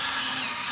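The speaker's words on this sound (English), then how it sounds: "we're just doing a little honing" A honing tool works inside an engine of a 1947 Ford 2-ton truck, making a brief, loud, steady high whirring grind.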